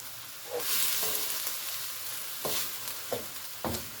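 Ground chicken for lettuce wraps sizzles steadily in a pan, its hiss broken by a few sharp scrapes and stirs from a utensil, close and fairly loud with no talking.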